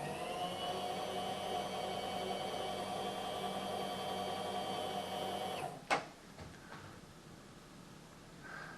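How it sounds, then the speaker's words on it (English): A milling machine takes a cutting pass along the surface of a part clamped in a vise, giving a steady whirring, tonal machining drone for most of the clip, then a sharp knock as the cut ends and the tool runs on more quietly. "We clamp this part in the vise and take a pass along the surface."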